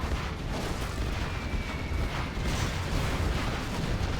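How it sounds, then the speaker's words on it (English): Carpet bomb strike pounding an airfield in a video game, a dense, continuous rumble of overlapping explosions with no clear gaps, loud and sustained throughout. "Carpet Bomb comes in, hits the airfield."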